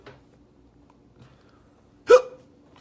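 A voice imitates a woman's hiccup in a car during a ride: one sharp, close hiccup-like gulp after near silence.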